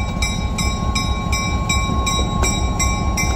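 A train moving along the rails on the north coast of the United States, with a steady, evenly spaced clickety-clack of wheels over track joints above a heavy, continuous rumble, loud and close.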